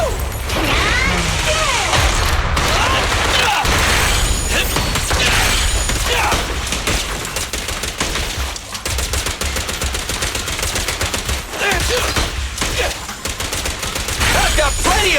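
Rapid gunfire bursts from a fight against ethereals in the action video game Zenless Zone Zero, dense and continuous across the whole stretch with sharp crackling shots over a busy, loud game mix.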